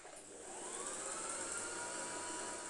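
A sewing machine runs steadily once its foot pedal is pressed, in a beginner sewing lesson: a continuous close motor whir with a bright, even hum and no talk over it.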